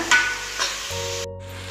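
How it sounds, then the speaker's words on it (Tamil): Tomatoes added to a pan of ginger garlic paste for a chickpea kurma set off a burst of sizzling frying, with a brief stir, then a steady low hiss. "இப்போ நம்ம தக்காளி சேர்த்துக்கலாங்க தக்காளி கொஞ்சம் வதங்கட்டுங்க"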